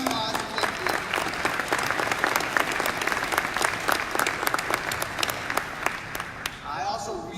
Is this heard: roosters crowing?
no